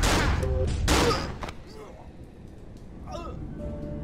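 Gunfire from enemies in the horror game Cry of Fear, a couple of loud broadband bursts early on that fade into quieter scattered game sounds, with someone talking over the action.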